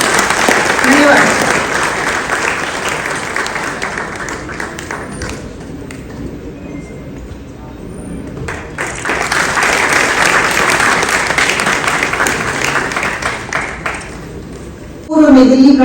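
Sustained loud audience applause at a Hul Johar Day event honouring India's tribal affairs minister, a dense steady clatter of many hands that dips briefly midway and then swells again, with a voice speaking over it.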